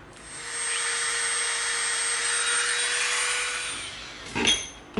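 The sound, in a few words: Dremel rotary tool marking EVA foam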